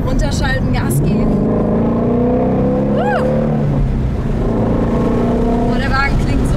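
A Ford Shelby GT350 with a manual gearbox roars loudly up a mountain road, its engine note dropping and then swelling through a quick downshift and hard throttle, while someone talks over the continuous drone.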